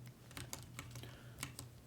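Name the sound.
computer keyboard key presses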